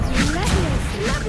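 A Protego shield spell cast in Hogwarts Legacy gives a quick magical whoosh with swishing sweeps and a soft thud, played loud over a continuous game soundscape, with a voice briefly present.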